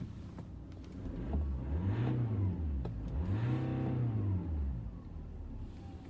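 A BMW 5 Series car engine revs up twice, each rising whine climbing and then falling back under a steady rumble. It is loud and close, with no talking.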